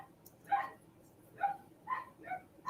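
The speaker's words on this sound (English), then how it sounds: "I hear a guard dog on duty" A guard dog barks several times at a distance: four or five short, faint barks spaced irregularly over a quiet background.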